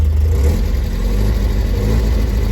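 A 1974 Alfa Romeo engine runs loud and steady with a deep low rumble, idling with slight swells in revs throughout.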